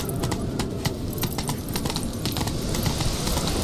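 Horse hooves clip-clop in a steady, quick rhythm in The Witcher 3: Wild Hunt, close and fairly loud over a constant rushing background, with no other sounds standing out.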